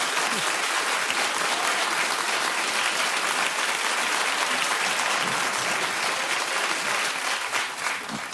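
A television studio audience on a daytime talk show applauds loudly and continuously, a dense, steady roar of many hands clapping that barely fades before the end.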